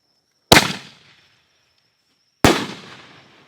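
Two sharp, loud firework bursts from a Nishiki Willow cake, about two seconds apart, each a hard crack followed by a crackling, fading tail, with a faint steady whine in between.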